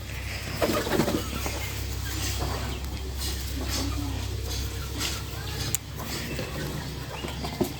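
Pigeons at a coop on a pigeon farm cooing softly amid a steady low background hum, with faint rustling and an occasional sharp click, a voice briefly talking nearby.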